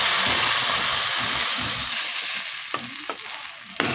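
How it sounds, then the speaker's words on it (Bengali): Small fish with chilli powder and cumin sautéed and stirred in a pan; close stirring scrapes and sizzle, then a sharper hiss as water hits the hot pan, followed by a few spatula knocks. "এখন এর মধ্যে আমি হালকা জল দিয়ে দিব একটু কষানোর জন্য"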